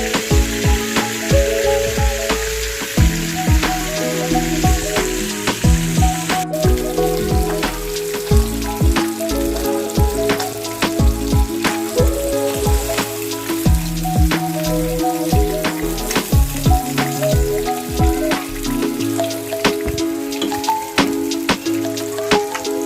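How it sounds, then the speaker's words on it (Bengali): Pieces of fish for fish kofta fry in hot oil, a dense continuous sizzle and crackle with frequent sharp pops, loud and close throughout, no voices. "মাছগুলোকে ভালো করে উল্টে পাল্টে, 2 পিঠ ভালো করে উল্টে পাল্টে একটু ভেজে নিচ্ছি।"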